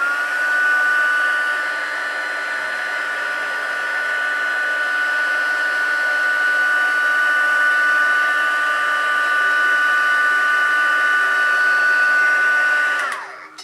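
A heat gun blows steadily while heat-setting blush paint on a doll's cheeks, a loud, even whirring roar with a constant high whine that holds for about thirteen seconds before winding down abruptly at the end.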